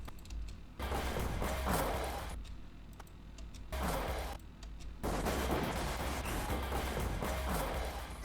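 Gunfire in the Dead Aim video game, a series of loud crashing shot bursts separated by short quiet gaps, each blast ringing out harshly.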